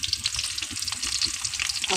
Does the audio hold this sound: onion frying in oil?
yes